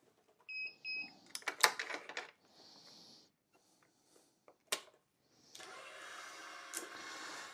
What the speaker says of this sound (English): you can probably tell by the beep, but the tensioner I use is a 2086, a Wise